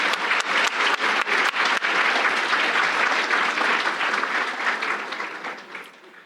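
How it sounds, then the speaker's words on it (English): An audience at a holiday chamber of commerce gala claps in a dense burst with a few sharp, distinct claps at first, holding steady and then tapering off toward the end. "Let's give another round of applause for our milestone."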